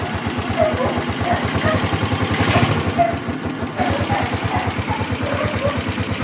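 A TMX 125 motorcycle engine fitted with a 6.3 cam idles close by after being flooded, a loud, rapid, even put-put pulse that runs without a break.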